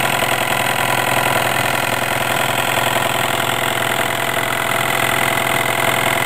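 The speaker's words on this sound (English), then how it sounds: "You can see how fast the Jensen 20 runs otherwise." A Jensen 20 engine runs fast and steady, producing a loud, unbroken mechanical whir and rattle with no pauses or changes in pace.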